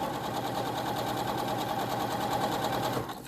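A sewing machine runs steadily as it stitches a facing onto a scrubs neckline, its close, even motor hum and rapid needle chatter continuing without a break before easing off at the very end.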